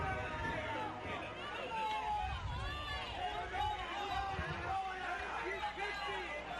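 Baseball crowd at a Wenatchee AppleSox versus Kelowna Falcons game reacts unhappily after a batter is hit by a pitch, a steady murmur of displeased chatter and babble filling the park, with voices mixed in.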